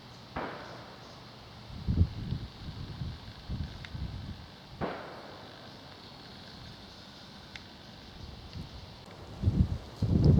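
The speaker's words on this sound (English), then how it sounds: "Wind's picked up now, it's chillier." Wind gusting across open countryside on an autumn walk near Goring and Pangbourne, a steady low rush with soft buffeting thumps against the microphone and a few faint distant clicks.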